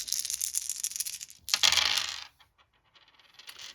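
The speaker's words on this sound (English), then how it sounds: "So I'm going to roll these dice." Dice rolling for the board game One Deck Dungeon: a bright clattering burst that tumbles and settles, then a second louder rattle, then scattered small clicks as the dice come to rest, close and alone.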